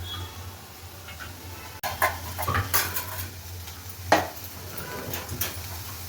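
Half an onion, garlic cloves and curry leaves dry-roasting in a pan without oil, heard as scattered scrapes, clinks and clatters of a utensil against the pan over a low steady background hum.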